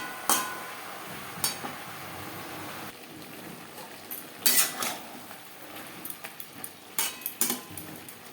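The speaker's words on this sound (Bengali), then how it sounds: "পুঁইশাকের সাথে বেশ ভালো করে মিক্স করে দেবো।" Malabar spinach and pumpkin being stirred in a pan, with scattered utensil clinks and scraping knocks against the pan at irregular intervals, fairly close and moderately loud.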